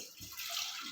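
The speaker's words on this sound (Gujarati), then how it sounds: "પાણી નાખી દીધું" A bowl's worth of water, about one lota, is poured into a pan on a gas stove while making Surati green corn bhel, giving a steady close splashing rush throughout, with no talk.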